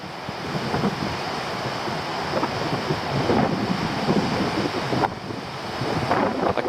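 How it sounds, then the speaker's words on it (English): Loud, continuous rush of storm surf with huge waves rolling and breaking, mixed with steady wind buffeting close to the microphone. "You see the waves that come in here are huge."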